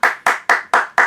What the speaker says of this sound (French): Il faut la noter, il faut applaudir.